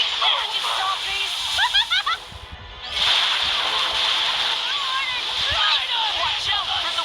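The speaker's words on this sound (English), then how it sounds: "Watch out for the waves!" Splashing water and whooshing wave effects from the Cookie Run mobile game, sounding continuously with short swishy bursts over bright game music, with speech-like voice sounds mixed in.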